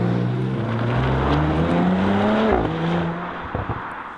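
An Audi RS5 Coupé with the optional sports exhaust revs up loudly, its engine note climbing and then dropping away, with no talking.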